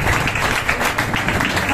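A church congregation applauds during an evening service, a steady dense wash of clapping that holds at an even level for the whole stretch, with voices mixed faintly into the crowd sound.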